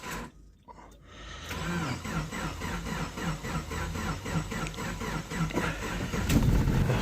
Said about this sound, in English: That was a long crank. But she started.